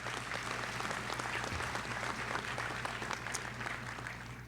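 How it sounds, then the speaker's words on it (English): A large audience at a graduation ceremony for Orange Beach City Schools applauds the graduating seniors, producing dense, steady clapping that holds at a loud, even level throughout. "Please give them a round of applause for this."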